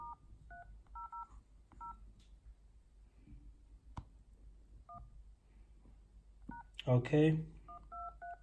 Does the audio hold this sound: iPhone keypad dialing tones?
yes